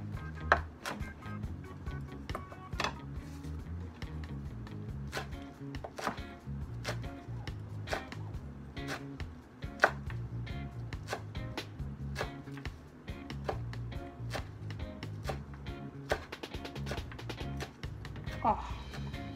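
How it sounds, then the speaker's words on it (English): Fresh basil, folded into a bundle, is chopped with a knife on a cutting board in a home kitchen, making a fast, steady series of crisp taps repeating close by throughout. "I start chopping."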